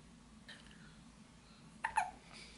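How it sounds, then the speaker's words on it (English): A two-month-old baby boy hiccups softly, two small close hics in quick succession against a quiet room hush. "Got the hiccups."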